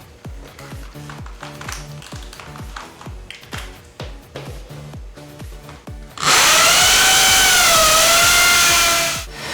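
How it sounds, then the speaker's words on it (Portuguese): Power drill boring a hole for a wall plug while fitting Durafloor skirting board, first short repeated bursts of drilling, then one loud continuous high-pitched whine as the bit bores through, slowing at the end. "Nós vamos terminar esse furo com essa broca que é a da bucha."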